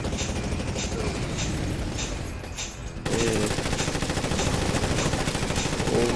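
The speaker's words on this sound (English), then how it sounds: "They're shooting at me." Gunfire rattles through a video game shooter in rapid, loud machine-gun bursts that run almost without pause, growing denser and louder halfway through.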